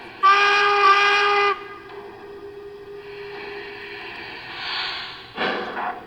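A model Lionel American 4-4-0 locomotive's steam whistle blows loud and steady for over a second, then fainter hissing and chuffing follow, with a second short burst near the end.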